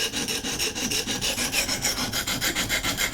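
A custom knife blade being sharpened on a Vipersharp guided sharpening system, with a steady, fast back-and-forth rasping scrape of stone on steel repeating evenly at close range and no voices.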